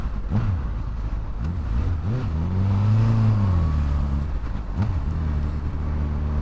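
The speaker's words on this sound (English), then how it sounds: "A bit of traffic here." Road traffic around a Honda CBR1000RR Fireblade motorcycle on a ride toward Chiswick, with a steady broadband engine and road rumble, a vehicle revving up and easing off in the middle, close and continuous.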